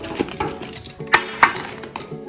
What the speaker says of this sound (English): Oh, keys.